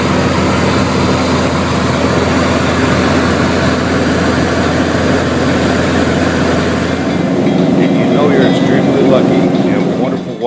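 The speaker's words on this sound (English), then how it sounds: "flying over your own home in your own airplane" A small private airplane's engine drones loud and constant inside the cabin over Orcas Island, a steady low hum with a voice talking over it at times.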